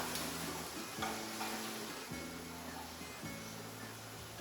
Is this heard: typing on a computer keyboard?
no